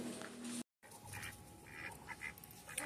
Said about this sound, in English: The ducks are down here to watch me.